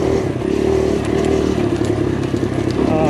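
A 2023 Kawasaki KLX140RF dirt bike ridden hard on woodland trails, its small engine droning steadily and loudly close by, held on the throttle with rattling and clatter over the terrain.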